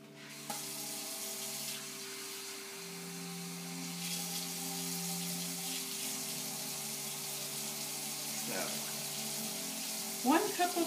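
Water poured into a sourdough bread mix in a home kitchen, a steady soft splashing trickle lasting several seconds with faint clinks of a bowl or cup near the end.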